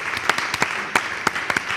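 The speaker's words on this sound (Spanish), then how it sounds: "Pues un aplauso a Andrés Llena, a ver cómo salen." Scattered applause from a small audience at a live interview event, a few sharp claps standing out over a steady patter, fairly close and with no talk over it.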